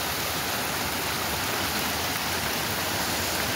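A swollen stream in flood during heavy rain gives a steady, dense roar of rushing water, loud and unbroken throughout with no voices.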